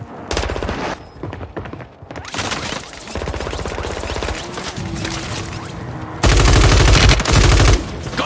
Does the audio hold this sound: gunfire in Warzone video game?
yes